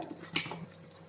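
A metal kitchen vessel clinks sharply once against another pot or utensil while idli batter is taken from a fridge, followed by a short rattle and then quiet.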